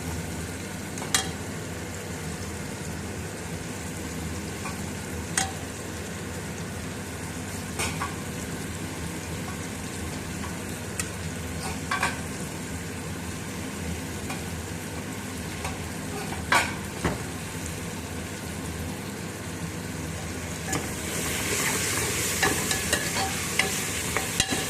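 Tomatoes with mint and coriander leaves frying in a pan for rajma biryani, a low steady sizzle with occasional sharp scrapes and clicks of stirring, growing slightly brighter toward the end.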